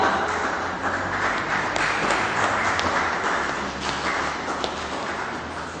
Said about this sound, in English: with a resounding round of applause, let's welcome nwada Pella